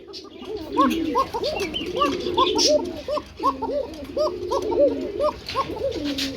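Pigeons at a farm coo in repeated soft, throaty rolling calls that overlap one another, close and clear, forming a busy rhythmic chorus with no voices.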